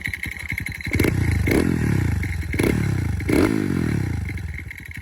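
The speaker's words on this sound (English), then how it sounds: "this does have a dry clutch on it, so that's why you hear a little bit more rattles" A Honda Monkey motorcycle with an OVER Racing exhaust idles while warming up, its dry clutch adding a metallic rattle; the engine putters steadily up close, with a few blips of throttle rising and falling.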